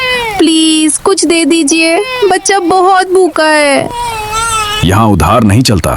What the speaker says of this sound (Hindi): उसकी गोद में छोटा बच्चा था जो लगातार रो रहा था।